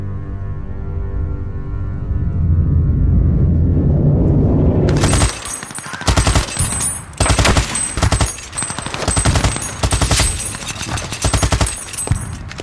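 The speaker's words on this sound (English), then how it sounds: "Emerging from their trenches to face fierce German machine gun and artillery fire." WWI battle at the Somme, with German machine gun and artillery fire: a swelling low rumble and droning tone gives way to loud, rapid bursts of machine gun fire and heavy blasts.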